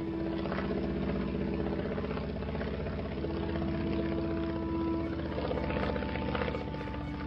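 Aircraft engine during a flight over the Hron river landscape near Kalnica in Slovakia, a steady, continuous droning hum with a constant pitch and no breaks.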